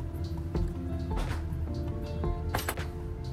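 Two cups of water pour into a pot of wilting zucchini on the stove, giving wet splashing, dripping and squishing sounds over a low steady hum.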